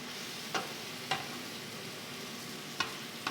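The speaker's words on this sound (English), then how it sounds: "So let's give these mushrooms a little spin around." Mushrooms stirred in a hot frying pan give a steady close sizzle, with four quick scraping strokes of a utensil across the pan surfacing above the hiss.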